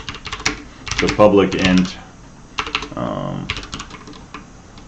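Rapid clattering keystrokes on a computer keyboard as code is written, loud and close, with someone talking over parts of the typing.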